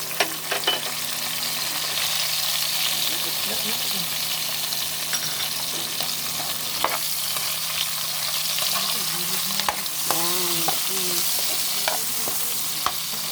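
Onion and tomato fry in hot oil, a loud continuous sizzle with spattering pops and scraping stirs close by, and brief muffled sounds over the frying.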